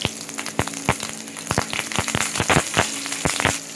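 Five-spice seeds, dried chili and ginger sizzle in hot oil with crisp, irregular popping crackles over a steady frying hiss, close and fairly loud.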